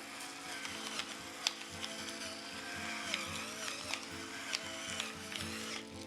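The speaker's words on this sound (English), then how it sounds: "Coolest pepper grinder ever." A pepper grinder grinds pepper in a home kitchen with quiet, uneven ratcheting clicks and crunching bursts, heard close and faint.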